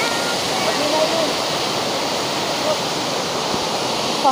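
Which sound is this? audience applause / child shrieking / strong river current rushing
strong river current rushing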